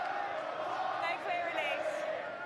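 A stadium crowd at a women's rugby match between Gloucester Hartpury and Bristol Bears voices disapproval, a steady distant murmur and jeering with a few raised shouts rising above the din.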